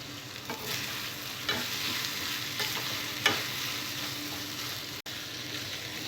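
Potato pieces fry quietly in oil with a steady soft sizzle, broken by a few light stirring scrapes and taps.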